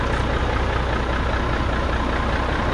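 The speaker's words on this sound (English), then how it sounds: "our new dump truck" A 1990 Mack R model dump truck sits idling close by, its steady low diesel rumble holding even and unbroken throughout with no voices.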